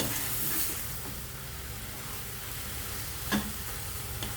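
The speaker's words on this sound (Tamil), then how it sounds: "இந்த மாதிரி இதை பரட்டி விட்டுட்டோம்னா கீரை ஒட்டாப்புற வந்துடும்" Spinach greens being stirred in a hot pan for a Tamil keerai kootu, with a soft continuous sizzle and a few scraping stirs, close and alone.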